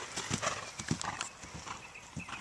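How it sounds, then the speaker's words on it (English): A ridden horse's hooves clip-clop in a quick, uneven rhythm at close range during a riding lesson, with a brief whinny-like sound and no clear talk. "Such a nice horse."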